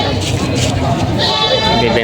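Goats for sale at a livestock market in Padre Garcia, Batangas bleat in wavering cries amid a steady crowd murmur and nearby talk.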